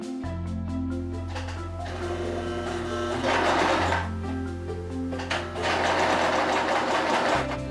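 A sewing machine stitching wedding dress lining and overlay pieces together, a loud, steady mechanical whir with rhythmic needle chatter that speeds up and slows in bursts, close and without speech.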